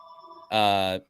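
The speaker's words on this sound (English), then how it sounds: "I got a rotary phone here. Anyway, a bit 2 more rings here." A rotary phone's bell rings once, loud and close, in a short buzzing burst that follows a fainter, thinner ring.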